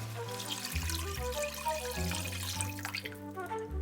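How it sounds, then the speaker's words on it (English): Bone broth pours into a pot of sautéed mushrooms for cream of mushroom soup, a steady close liquid stream with a gurgling, filling quality lasting a few seconds. "we're going to add 2 more cups of bone broth."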